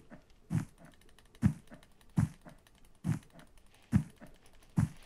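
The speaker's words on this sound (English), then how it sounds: "I'm clicking so fast" Six crisp clicks from a mouse or keyboard during a Bedwars match, evenly spaced a little under a second apart, each one close and distinct over a quiet background.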